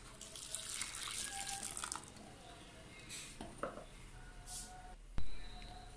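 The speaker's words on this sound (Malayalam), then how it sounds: "നമുക്കിതിലേക്ക് ആവശ്യത്തിനുള്ള വെള്ളം ഒഴിച്ചു കൊടുക്കണം" Water pours into a pan of raw mango fish curry after the ground paste and pieces are added, a soft running splash over kitchen clatter, with a sharp clink of a utensil near the end.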